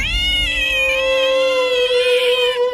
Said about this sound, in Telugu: అంతా అనవసరం డిస్టర్బెన్స్ చేస్తుంది పిల్లి